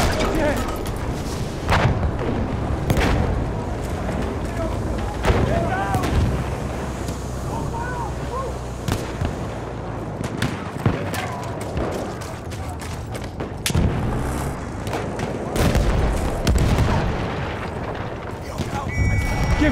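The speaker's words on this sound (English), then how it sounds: "Grenade out!" Battlefield 1 combat with grenades going off and dense artillery-like booms and gunfire throughout, loud and close, with shouting voices over the battle.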